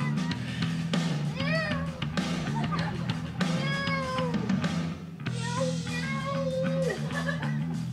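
Three drawn-out, wavering cat meows follow one another, each lasting a second or two, over a constant low hum.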